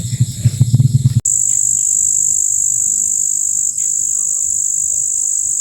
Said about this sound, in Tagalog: Naririnig ng huni ng mga kuliglig.